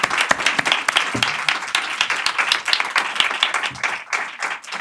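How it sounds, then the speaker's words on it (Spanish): Crowd clapping at a live podcast recording, close and lively with distinct individual claps over a steady wash of applause. "Un aplauso para José."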